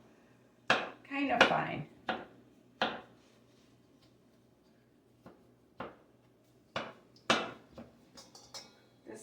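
Knife chopping drained black olives laid on a paper towel on a cutting board, a burst of rapid close chops followed by scattered single cuts, with a brief spoken phrase in between.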